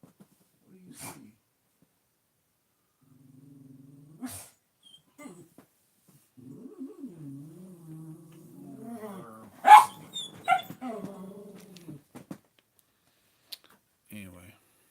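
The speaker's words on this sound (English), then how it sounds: "I gotta go see what this dog's barking at." A dog barks and whines indoors: low whimpering tones and a few sharp barks, with a voice speaking nearby between them.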